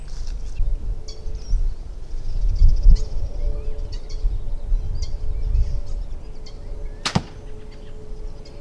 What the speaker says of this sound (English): shoots pretty quiet with the quiver on there